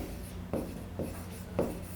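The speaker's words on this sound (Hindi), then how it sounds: "अब देखो मैं लिखता हूं आपके लिए एक और सेंटेंस।" A teacher writes a sentence on a board with a few short, soft scratching strokes, spaced about half a second apart, quiet and close.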